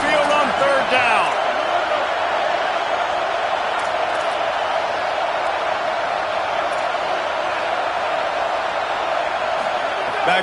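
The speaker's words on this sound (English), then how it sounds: "The Tide crowd rolling noise down onto Saban Field on third down." Home crowd at a college football stadium roaring on third down, a dense, continuous wall of cheering and yelling that stays loud and steady throughout.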